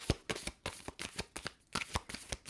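Oracle cards being shuffled close up, a quick run of papery riffles and flicks that repeat in an uneven rhythm.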